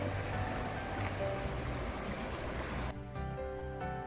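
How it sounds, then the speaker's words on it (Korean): Water flowing steadily at a succulent cafe in Gwangju, Gyeonggi-do, a continuous close wash that dips briefly near the end, with no talk over it. "물 흐르는 소리가 좋죠"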